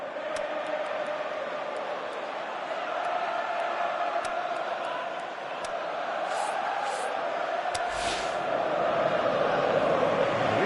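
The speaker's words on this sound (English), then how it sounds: "you can feel and hear how the crowd are reacting to all of this" Football stadium crowd in the PES 18 video game, a steady broad roar of many voices that swells slightly toward the end, with no distinct talk on top.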